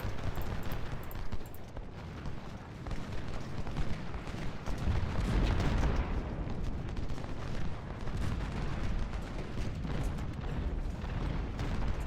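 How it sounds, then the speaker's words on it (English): Civil War artillery fire rolls on continuously in Ultimate General: Civil War at Bull Run, a dense, loud wash of booming cannon and gunfire with no pauses and a swell of heavier blasts midway. "We got all of that artillery."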